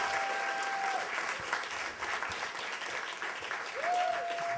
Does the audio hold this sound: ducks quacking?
no